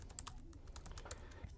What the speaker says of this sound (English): We will go and we will start typing a note.